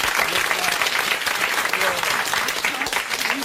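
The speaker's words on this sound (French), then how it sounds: "Et vous allez l'applaudir" Studio audience applause on a 1986 French television talk show, a dense steady clapping that fills the whole stretch at an even level with no talk over it.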